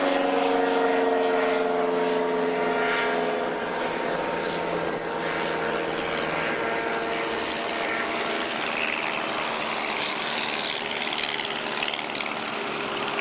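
Steady propeller aircraft engine drone at an airshow fills the air, loud and continuous, with a droning tone that shifts slightly as a plane such as an RV-6 moves nearby.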